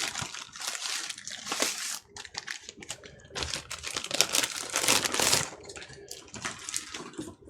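Close plastic bag crinkling and rustling in irregular bursts, with short quiet gaps between handling sounds.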